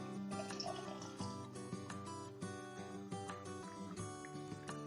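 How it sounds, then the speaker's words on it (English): Hot water pours steadily from a kettle into a jar of conkers, a continuous liquid rush with faint clinks, moderately loud and close, with no talking. "And then you just have to top that up with hot water from your"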